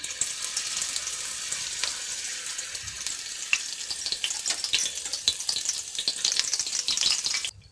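Chilli cheese toast frying in melted ghee on a hot tawa griddle, a steady close sizzle with crackling pops and spatters running throughout, no talking.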